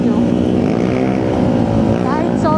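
A motorcycle riding along the road to Maliko on a hot day, its engine a loud, steady, close droning whine that holds throughout without a break.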